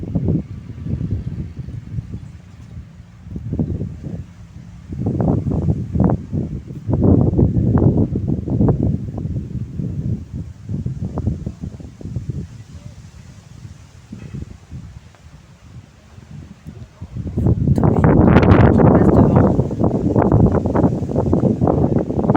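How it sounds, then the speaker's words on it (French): Gusty wind buffets the microphone in loud, uneven blasts, with a strong sustained gust rising near the end. "Il y a du vent, hein."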